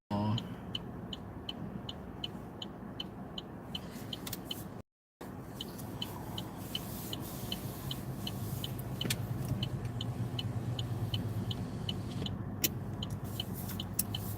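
A car pulls out onto a main road near the Gettysburg battlefield, its engine and road noise a steady rumble inside the cabin, with a regular ticking like a turn signal for much of the stretch.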